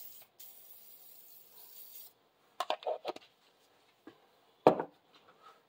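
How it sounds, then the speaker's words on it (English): Aerosol cleaner sprayed onto disassembled Panzer M4 gun parts: a long hiss, then several short bursts and a final sharp spray, separated by quiet gaps. "Let's go ahead and spray these down."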